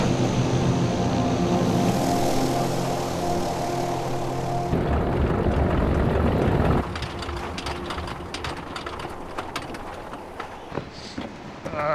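Propeller drone of a Canadair CL-215 aircraft landing with its landing gear down in extreme cold, a loud steady engine roar that shifts partway through as the aircraft touches down and rolls.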